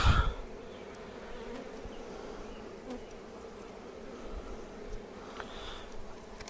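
A steady, continuous buzz of many honeybees swarming around a hive, fairly close and constant throughout, with a few louder passes near the microphone.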